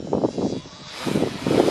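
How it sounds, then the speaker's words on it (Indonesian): A steady whirring hum of a DJI Mavic drone flying nearby, its drone pulsing slightly with a broadband rush of wind, no voices. "Di Mavic mengudara."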